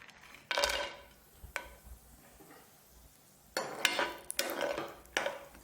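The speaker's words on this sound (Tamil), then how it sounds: "இப்போ எடுத்து வச்சிருக்க திராட்சை முந்திரியை வறுத்து எடுத்துக்க போகிறேன்" Cashew nuts and then raisins being roasted in a pan for paruppu payasam, with several bursts of scraping and stirring against the metal pan separated by a quieter stretch, close and moderately loud.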